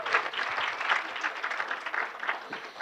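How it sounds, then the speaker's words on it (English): A round of applause at the HopHacks Spring 2016 hackathon kickoff, a short burst of crowd clapping with cheering voices mixed in, moderately loud. "give them a round of applause"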